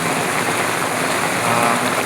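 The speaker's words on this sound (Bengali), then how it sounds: "খুবই অনেক জোরে বৃষ্টি, এখন আরও বেশি জোরে বৃষ্টি হচ্ছে" Heavy rain pours steadily onto a car's glass and the ground outside in the dark, a dense, even hiss with no gaps and no voices.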